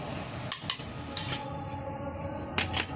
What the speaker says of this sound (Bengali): থালাটা সরিয়ে দিচ্ছি